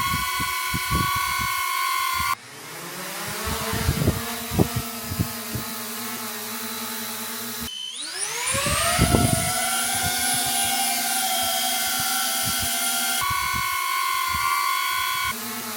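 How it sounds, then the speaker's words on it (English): DJI Mini 4 Pro, Avata 2 and Neo drones take off one after another, each spinning up into a loud, sustained high-pitched whine of propellers, with clicks and thumps as they lift, alone without talk. "So we have the Mini 4 Pro, the Avata 2 and the Neo, just to give you an idea of what these sounds like on takeoff."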